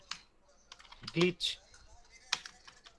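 Keystrokes on a computer keyboard while text style is entered in a video-editing tutorial: a few scattered, fairly soft clicks close by, with a faint voice in the background.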